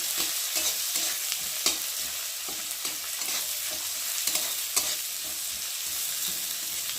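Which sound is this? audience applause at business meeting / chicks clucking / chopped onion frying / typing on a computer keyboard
chopped onion frying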